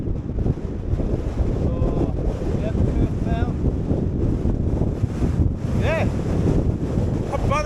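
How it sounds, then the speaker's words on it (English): Strong wind buffets the microphone at a hilltop camp on High Snockrigg, a steady roar throughout with a brief spoken word. "get out of this wind a little bit"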